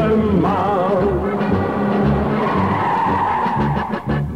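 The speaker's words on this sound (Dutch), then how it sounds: "Wanneer de Mustang door de bochten giert" A Mustang's tires screech through bends at a racing event, a loud sustained squeal with wavering pitch over steady engine roar.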